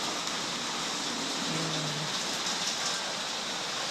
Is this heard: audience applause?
no